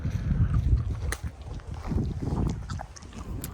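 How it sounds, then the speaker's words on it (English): Wind buffets the microphone on an exposed hilltop among the ancient ruins of Pergamum in Turkey, a loud, uneven rumble that gusts and eases throughout with no speech. "It's pretty windy up here, so sorry about the wind."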